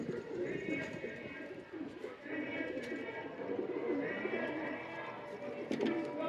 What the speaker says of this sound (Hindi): ये कबूतर जी है।